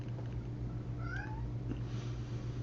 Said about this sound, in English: I'm talking to the cat.